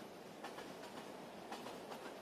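A train rolling along the rails, its steady rumble carrying regular clickety-clack wheel beats, continuous and moderately loud with no voices.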